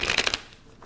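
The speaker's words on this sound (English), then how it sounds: "I am pre-shuffling the clarifying deck." A tarot card deck being shuffled, a quick burst of three or four crisp riffling flutters up close, then fading into quiet room tone.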